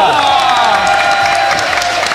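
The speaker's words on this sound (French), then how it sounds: "Tonnerre d'applaudissements pour ces gens qui répondent bien aux questions." A live audience at a podcast quiz show in Rennes bursts into loud, sustained applause with cheering and whoops, a dense crowd roar throughout.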